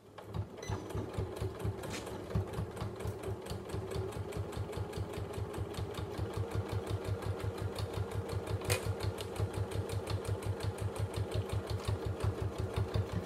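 A sewing machine runs steadily, stitching around a fabric card holder with elastic sections, giving a fast, even mechanical chatter that holds close and loud throughout with no pauses.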